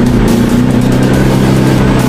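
An off-road vehicle's engine revs under throttle, a loud close droning growl with a pulsing low hum lasting a couple of seconds without a break.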